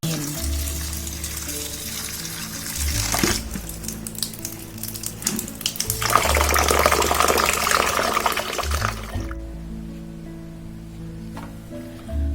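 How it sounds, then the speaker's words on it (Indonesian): Tofu is rinsed in cold salted water, a steady splashing and running-water wash that shifts in intensity before stopping, leaving a quieter room. "Kemudian tahu ini saya bilas dengan air garam dingin."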